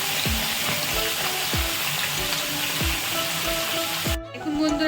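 Chicken frying in hot oil in a pan for a Jharkhandi-style masala dish: a loud, continuous close sizzle with regular scraping stirs about every half second, and no voices.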